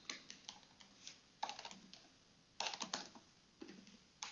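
Bursts of quick keystrokes on a computer keyboard, clustered in short runs with pauses between, close and fairly quiet, no voices.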